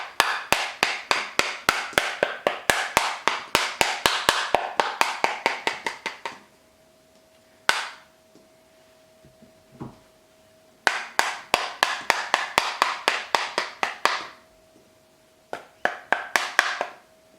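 A spoon handle whacks the back of a marzipan mold in fast, sharp, woody taps, repeated in several bursts of many hits with short pauses and a faint hum in between.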